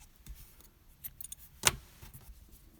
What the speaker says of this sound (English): We can actually cut our red yarn here.